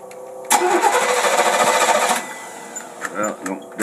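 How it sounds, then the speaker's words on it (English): A car engine fitted with a Rochester two-barrel carburetor cranks over in a burst of rapid, whirring mechanical chatter, then stops and leaves a few quieter clicks and knocks. "You hold that choke open and we'll crank it."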